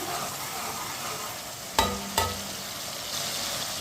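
Chopped garlic and ginger fry in a pan with a steady, close sizzle, broken by two quick scraping stirs of a spoon against the pan. No one speaks.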